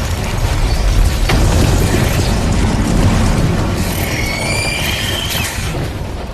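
Explosion from the science-fiction film Starship Troopers: Traitor of Mars, a loud sustained rumbling blast with debris and mechanical clatter, ending with ringing whistle-like tones, no speech.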